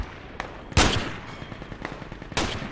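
Machine gun fire in the tactical military shooter Project Reality: two loud, close bursts of gunshots, with quieter scattered shots and distant fire crackling in between.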